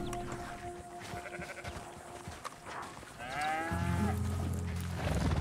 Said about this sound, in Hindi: भैंस है, गाय है,